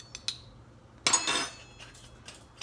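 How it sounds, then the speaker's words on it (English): Teaspoon of seeds tipped into a small metal tea ball for CCF tea: faint clinks of the spoon on metal, then a brief rattling pour of seeds, close and quiet without talk. "I take a teaspoon of the seeds and put it in the tea ball"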